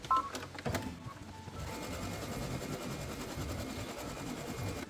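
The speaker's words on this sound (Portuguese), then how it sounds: "E na primeira etapa, etapa vermelha, a máquina vai fazer a marcação." An embroidery machine with a 16 by 26 hoop stitching a placement outline on thin TNT fabric, after a few beeps and clicks a quick, steady mechanical chatter continues close by, with no talk.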